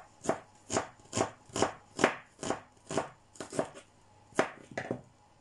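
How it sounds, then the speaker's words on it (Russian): Knife chopping onion into thin strips on a cutting board while preparing a home-made chicken shawarma, about ten crisp evenly spaced cuts close by, with no talking. "Режем лучок соломочкой мелкой"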